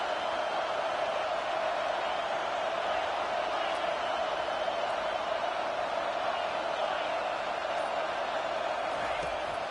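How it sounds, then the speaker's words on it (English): A football stadium crowd roars as one steady, unbroken wall of noise for the full stretch, loud and distant-sounding, with no single voices standing out. "The roar of the crowd trying to fuel this defense to keep them pinned in their own end."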